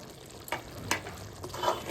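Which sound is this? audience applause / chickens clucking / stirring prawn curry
stirring prawn curry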